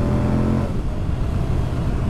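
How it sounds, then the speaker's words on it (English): A Moto Guzzi V100 Mandello motorcycle engine pulls hard under acceleration, a loud, close, steady low rumble with a throaty tone that settles into rougher road and wind noise after the first half second. "Oh, there's loads of grunt from that engine."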